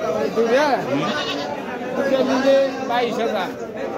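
Castrated male goats at a livestock market: several wavering bleats, one near the start and more in the second half, close and clear over busy crowd chatter and people talking nearby.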